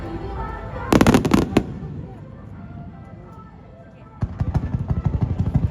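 Fireworks at a Japanese Hanabi festival crackle in two dense rapid bursts of pops and bangs at moderate distance, separated by a quieter stretch with a person talking over the scene.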